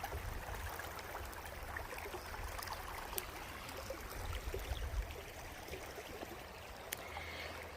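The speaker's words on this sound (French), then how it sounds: "Voilà le beau ruisseau." A small woodland stream flows beside a tree, a soft, constant water babble with faint trickles, quiet and steady throughout with no voices.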